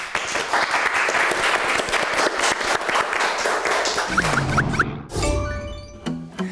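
Studio audience claps steadily for about four seconds before a song, then the applause fades as instrumental music begins, with piano-like tones entering near the end.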